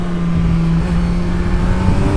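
A 2025 Kawasaki Z900 motorcycle engine revs hard toward the red line, a loud, continuous buzzing drone with climbing pitch, heard close up without talk.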